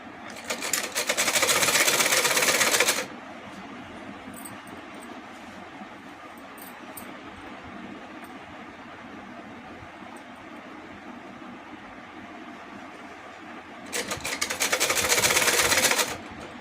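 A sewing machine stitches a belted salwar in two loud, rapid whirring runs, one at the start and one near the end, separated by quiet handling of the fabric.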